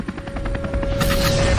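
A cartoon helicopter sound effect whirs loudly with fast rhythmic rotor chopping, swelling into a denser roar halfway through, with no talking.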